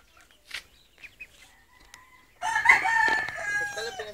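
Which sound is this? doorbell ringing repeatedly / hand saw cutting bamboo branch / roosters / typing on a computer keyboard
roosters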